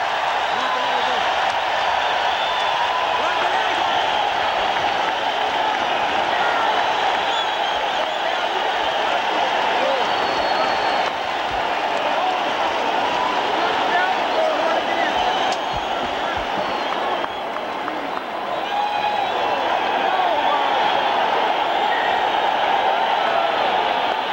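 A boxing crowd roars at the Pond arena after the Daniel Jimenez vs Marco Antonio Barrera fight ends, a loud, unbroken wall of cheering that carries through the whole stretch.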